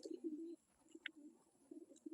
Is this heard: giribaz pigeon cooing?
yes